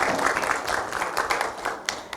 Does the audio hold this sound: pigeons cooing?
no